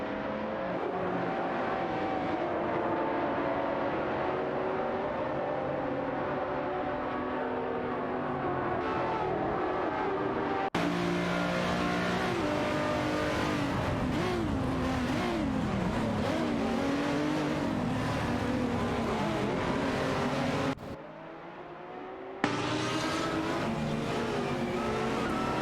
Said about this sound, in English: Both drivers are pushing hard in their Spiker C8 Spider GT2 R and Dodge Viper